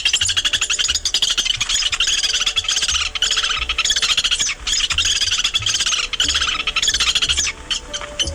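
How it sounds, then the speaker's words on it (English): Lewis's woodpecker giving a continuous run of harsh, squawky chattering calls, fairly loud and close, with a steady busy texture and no voices. "The bird is the Lewis's woodpecker. Here's its typical chattering sound."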